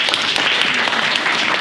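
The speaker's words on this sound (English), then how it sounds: "Another round of applause, please." Audience applause at an awards talk, steady dense clapping filling the whole stretch at a loud, even level with no voices over it.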